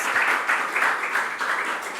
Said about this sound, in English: I think they need a big round of applause.